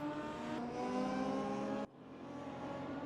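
Race cars, including Lotus and BMW models, in a sim racing game at the Brno circuit: a loud, steady high-revving engine drone with a sharp drop in pitch and level as a gear change or cut hits partway through.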